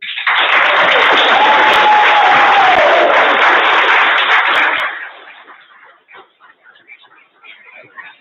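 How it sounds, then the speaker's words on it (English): An audience at a Bexar County felony drug court graduation in a hall gives a dense, sustained round of applause that fades out after several seconds into scattered claps. "one last round of applause for all the graduates"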